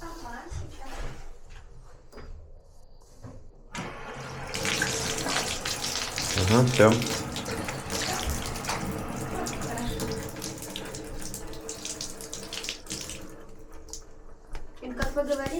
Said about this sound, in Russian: теперь открыть нужно воду